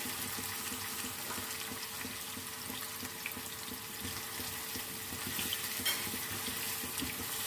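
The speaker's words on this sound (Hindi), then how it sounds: "ऑयल में हम प्याज को फ्राई कर लेते हैं।" Sliced onions frying in hot oil for a masala fish curry, a continuous dense hiss with a watery, crackling texture that holds steady and swells slightly near the end, no voices.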